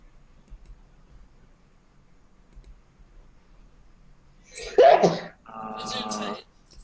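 During a tabletop Dungeons & Dragons session, a single sharp sneeze bursts out close to the mic after several seconds of near quiet, followed by a short spoken reply.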